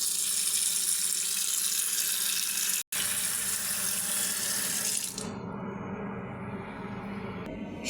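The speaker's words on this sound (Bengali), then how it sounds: "এখন শাকটা ধুয়ে নেব।" Water spinach (kolmi shak) rinsed under a running kitchen tap, a steady close rush of water that cuts out for an instant, then continues more softly as it splashes over the greens.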